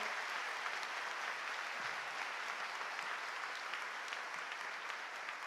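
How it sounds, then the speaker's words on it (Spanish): Steady, even applause from a large audience at a university graduation ceremony, a dense wash of clapping that holds at a constant level throughout. "Les pido un muy fuerte aplauso para nuestros 908 graduandas y graduandos de pregrado"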